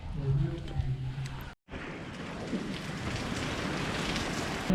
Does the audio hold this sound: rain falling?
yes